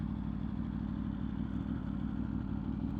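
A motorcycle with its catalytic converter under the engine idles steadily, a low, even, close rumble with faint mechanical clatter and no talk.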